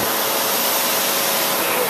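A Sebo upright vacuum cleaner runs with a loud, steady, airy whoosh, close and continuous over the short moment after it switches on.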